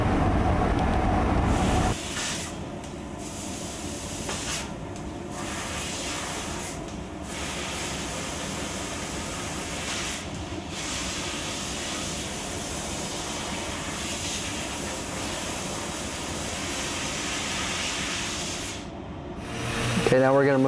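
A fiber laser cuts 11 gauge mild steel with nitrogen assist gas through a 2.0 mm nozzle, giving a loud, continuous roaring hiss for about twenty seconds, broken by a few short pauses and abrupt stops.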